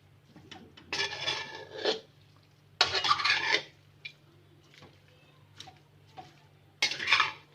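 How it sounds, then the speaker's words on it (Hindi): A spoon scraping and stirring halwa in a kadhai as it roasts, a few bursts of rough metallic rasping separated by quiet pauses. "उसी में आप इसको डाल के पहले थोड़ा सा भून लें ताकि उसका जो कच्चा जायका है वो ख़त्म हो जाए।"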